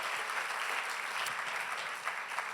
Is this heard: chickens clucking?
no